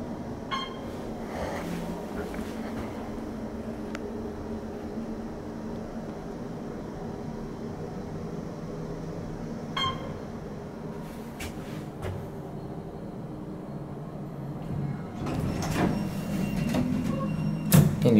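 Otis Series 2 hydraulic elevator at a Florida resort hotel riding down, a steady low hum and rumble through the cab with faint clicks and a louder rise of motor noise toward the end, no talking.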